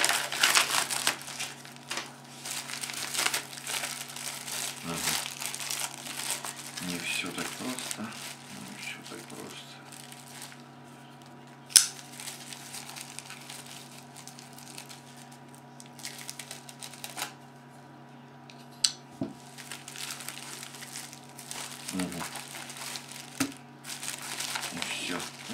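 A parcel of key carabiners from China being unwrapped, with repeated crinkling and rustling of plastic packaging in irregular bursts, close to the microphone, and a few sharper tearing or clicking sounds, with occasional talking.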